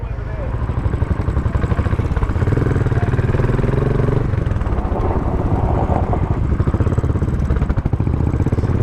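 Several Royal Enfield motorcycles ride three abreast around a corner, their engines a loud, steady, close rumble that holds throughout with a slight change in tone midway, with rushing wind noise mixed in.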